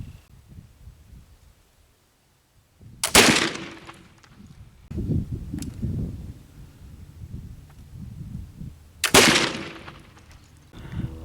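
Two loud black powder gunshots fired at clay pigeons, spaced about six seconds apart, each a sharp nearby blast followed by rumbling outdoor noise and wind.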